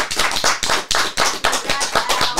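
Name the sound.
audience applause on podcast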